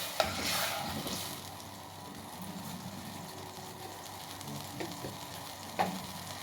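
Onions frying in a pan for spaghetti sauce, a soft, quiet sizzle with occasional stirring clicks and scrapes, no voices.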